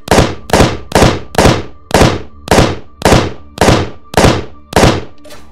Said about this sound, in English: your full force of fire for the auto-cannons is going to look something like this